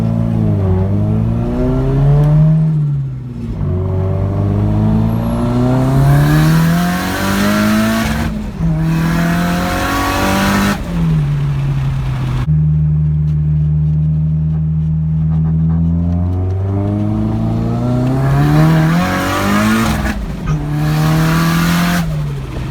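Nissan S13 fitted with a screamer pipe exhaust, revving hard again and again in loud, raspy climbs and drops with no talking.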